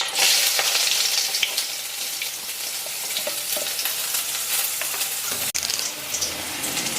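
Onions sizzling and frying in cold-pressed peanut oil in a hot pan, a steady, close crackling hiss with occasional stirring clinks throughout, no voices.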